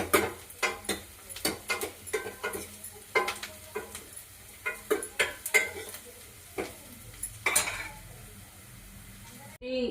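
Onion browns in a pan for kadhi, stirred with a spoon in a quick series of close scraping clinks over a faint sizzle.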